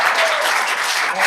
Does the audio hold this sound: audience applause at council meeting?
yes